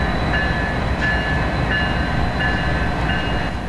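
Freight train 36T rolls past a road crossing close by, a steady, loud rumble with faint rhythmic wheel clicks and a thin metallic ring throughout.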